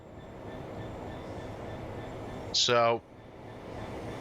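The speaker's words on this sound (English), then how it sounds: "Here he comes, look. Exactly identical train to the one that I'm using." An LNER Class 801 train rumbles along the East Coast Main Line near Peterborough in Train Sim World 4, a steady low rail drone with a loud descending horn-like blast near the end, and a voice speaks briefly.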